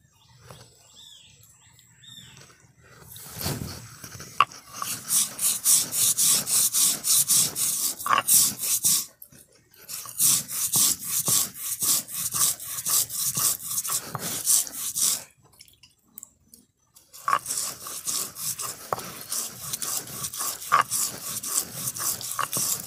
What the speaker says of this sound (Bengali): এবার পোস্ত বেটে নেব।